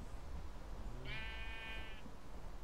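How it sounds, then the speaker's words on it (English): A single sheep bleat in the video game Minecraft, one wavering call about a second long, rising out of a constant hiss of background noise. "There's a sheep."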